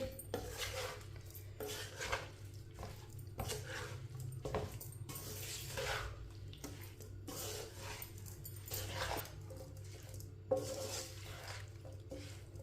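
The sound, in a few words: stirring roasted spices into mixed pickle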